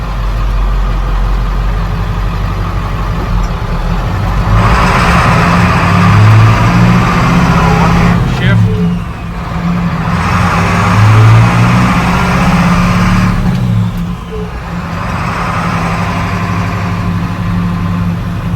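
Old rat rod truck with a loose exhaust stack bracket whose bolt rattles and grinds, heard over a loud, steady engine running and revving up close, with the rattle rising and falling alongside the throttle.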